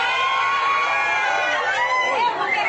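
Agitated crowd of patients at a Rio de Janeiro polyclinic booing a clinic employee, a loud, unbroken mass of overlapping voices and jeers close by.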